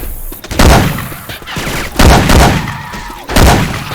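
Syphon Filter weapon sounds modded into Left 4 Dead 2, loud close bursts of rapid gunfire in several volleys with booming impacts, heavy and continuous with brief gaps between salvos.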